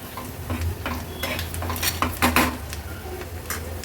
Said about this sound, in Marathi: हळद आणि मसाला व्यवस्थित परतून घ्यायचा आहे